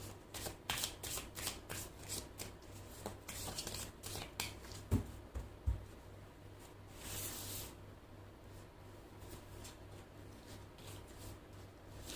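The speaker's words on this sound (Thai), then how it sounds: "อาจารย์ขอเปิดไพ่เลยนะคะ จากไพ่ออราเคิลค่ะ" Oracle cards are shuffled and dealt out for a Tuesday-born fortune reading, a rapid run of close, crisp riffling flicks followed by softer sliding and placing of cards, with no talking.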